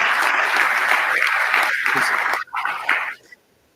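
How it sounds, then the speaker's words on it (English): Audience at a lecture on local news applauding student reporters, a dense sustained round of clapping that thins out and stops near the end. "So round of applause there"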